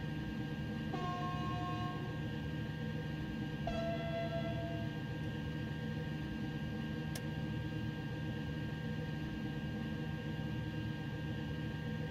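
An SNCF TGV high-speed train in Train Sim World 2 begins to move on the LGV Méditerranée route. A steady low rumble continues throughout, with two short electronic tones near the start and a single sharp tick later.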